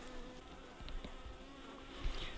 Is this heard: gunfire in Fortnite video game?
no